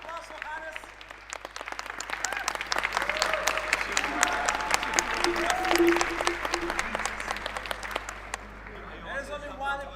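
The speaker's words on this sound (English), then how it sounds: "Applause for Hannes." A crowd at the grand finals of a competition event applauds in a long, dense burst of clapping with some cheering voices mixed in, swelling in the middle and easing off near the end.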